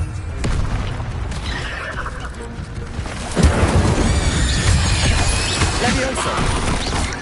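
An Incendio fire spell goes off in Hogwarts Legacy, a rumbling, booming fiery burst with a heavier surge midway, heard over steady game ambience.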